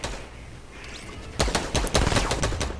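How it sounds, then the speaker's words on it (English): A quiet stretch gives way to a rapid burst of loud gunshots, cracking in a dense cluster near the end. "I hear gunshots for days"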